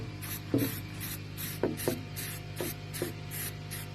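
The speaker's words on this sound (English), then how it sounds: "we're just going to spray a little coat to get it sealed" Rhythmic short bursts of an aerosol spray laying a thin coat of white paint on a driftwood farmhouse table, each hissing puff close and evenly spaced.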